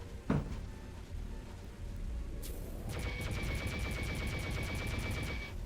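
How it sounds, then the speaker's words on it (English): Tank tires being shot out in 007 Nightfire, heard as a sharp early shot, then a rapid, evenly spaced string of gunshots over a steady rumbling engine drone. "There's a funny strat I'm gonna go for here, where I can actually pop the tires on this tank."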